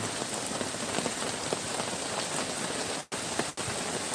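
Heavy rain pours down in a dense, continuous hiss of close drops striking a surface, loud and steady, with two brief dropouts near the end.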